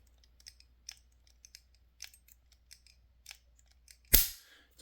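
A polymer-framed pistol in a quiet room: faint, scattered small clicks of trigger take-up, then one sharp, close mechanical snap as the trigger breaks and the striker resets, quickly fading.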